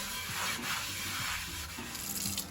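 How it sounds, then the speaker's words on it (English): A Brillo pad scrubs rust off a cast iron skillet with rough, rhythmic rubbing strokes, moderately loud and close, with a faint watery wetness underneath. "you want to take the Brillo pad and you just want to scrub that rust really well"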